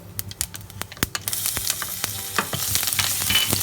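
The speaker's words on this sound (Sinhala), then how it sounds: "සුදු ලුණුට හොඳට රන්වන් පැහැවෙනකම් බැද ගන්න ඕනේ." Garlic sizzling and frying in hot oil in a pan for cassava cutlets, a steady crackle and spatter with sharp pops close by, growing denser and more continuous toward the end, with no talking.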